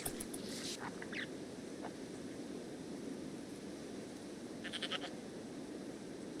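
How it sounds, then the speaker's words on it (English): Sheep in RimWorld grazing on wild healroot, with a few short, faint bleats scattered over a soft, steady ambient hiss, mostly near the start and again later. "It seems like the sheep are eating the wild heel root plants"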